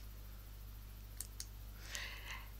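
Clicks from a computer mouse while choosing Create in the Tagxedo word-cloud tool: two quiet, sharp clicks about a quarter second apart, then a softer rustle of further clicking, all faint and with no talking.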